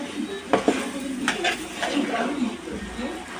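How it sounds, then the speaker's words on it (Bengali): Vegetables, with cauliflower among them, are stirred into cooked masala in a pan for a fish curry, giving clinks and scrapes of a utensil against metal with faint sizzling under a steady background. "সবজিটাকে খুব ভালোভাবে মশলার সাথে মিক্স করে নেব"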